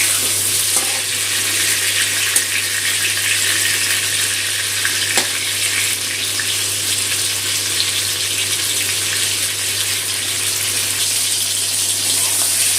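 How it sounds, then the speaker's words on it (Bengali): Pointed gourd (potol) fries in hot oil in a pan, giving a loud, steady sizzle that continues unbroken throughout with no talking. "পটলটাও ভাজা হচ্ছে।"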